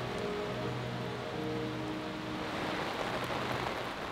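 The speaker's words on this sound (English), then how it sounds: "Packing away in the rain wasn't fun" Steady rain pours down at a carp fishing lake, a dense continuous hiss of drops landing on surfaces, with no voices.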